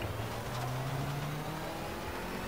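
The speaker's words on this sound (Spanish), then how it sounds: "Lo que me encanta es el sonido de los motores." Simulated car engine in the Project CARS racing game, revving steadily at a mid pitch with a droning, continuous tone throughout, fairly quiet and without talk over it.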